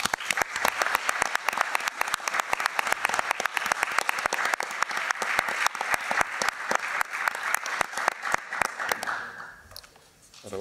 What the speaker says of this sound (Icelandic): Bara gefa þeim gott klapp.